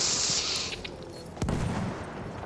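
Video game gunfire in Battlefield 1, with a quick burst of rapid shots followed by a sharper single crack, fairly close and mixed with game noise, no talk.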